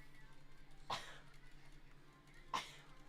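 Two sharp, brief sneezes about a second and a half apart, close by and fairly quiet, over a low background hum.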